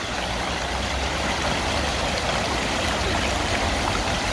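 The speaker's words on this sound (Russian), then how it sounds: "Фонтаны у нас включили, ну включили, да, 1 мая." City fountains, switched on for the season on the first of May, run with a dense, continuous rush of falling water that stays loud and even throughout, with no voices.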